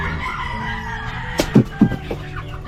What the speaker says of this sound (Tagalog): Meron din dito, mga sisiyo.